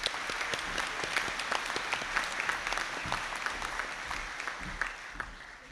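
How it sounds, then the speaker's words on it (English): A hall audience applauds graduates at a university conferring ceremony, a steady dense wash of many hands clapping that holds for several seconds without a pause. "And I ask you to give them a round of applause."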